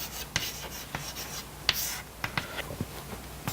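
Chalk or a marker scratches across a lecture-room board in short, irregular strokes and taps, close and fairly quiet, with no voice over it.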